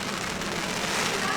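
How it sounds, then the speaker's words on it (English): Rain falling on a surface in Florida, a steady dense hiss of drops pattering throughout, close and fairly loud, with no clear pauses. "this is like super ASMR because it's got the rain noise"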